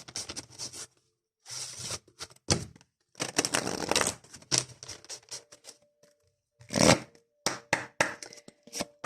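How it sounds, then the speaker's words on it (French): Oracle cards shuffled by hand for a reading, in quick papery riffling bursts separated by short pauses, close and moderately loud, with no talking. "on va faire le tirage avec l'oracle de l'âme intuitive"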